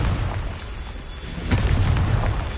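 A Confringo spell explodes in the video game Hogwarts Legacy. A rumbling background swells into a loud, broad burst partway through, followed by a sustained roar.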